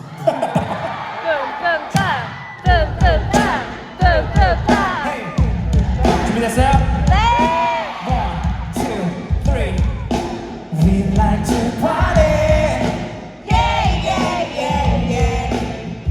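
Concert audience at a show, a dense roar of cheering, yelling and whooping with applause, loud and sustained throughout, with a performer's voice heard over the crowd.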